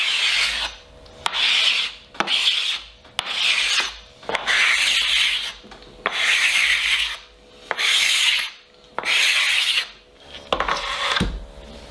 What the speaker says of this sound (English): the live wood is going to be sanded and then scraped